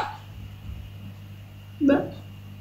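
A recorded dog bark played from a phone by Google Assistant: one short bark near the end, after a quiet stretch of low background hum.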